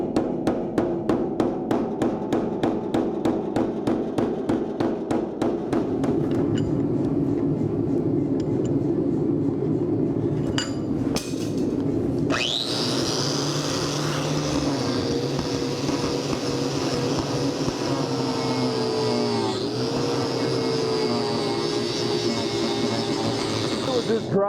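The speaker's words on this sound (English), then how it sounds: "Just grind little tack welds off" Angle grinder taking small tack welds off a hot junkyard-steel knife: a rapidly pulsing mechanical hum gives way to a loud sustained high whine with shifting pitch as the disc bites, close and continuous.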